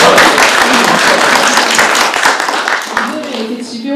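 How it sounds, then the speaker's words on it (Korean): A crowd claps together, a dense patter of applause that holds steady and then thins out toward the end, with a voice faintly underneath. "이렇게 박수를 드릴까요?"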